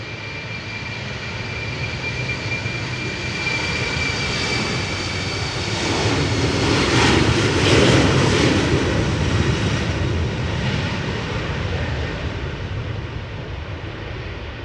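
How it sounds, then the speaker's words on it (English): A KLM Embraer 190 jet departs Amsterdam Schiphol in a crosswind, its engine roar loud and steady, swelling to a peak midway and holding strong as it climbs out. "these two Embraer 190s. The first of which is KLM flight 1173 going to Trondheim."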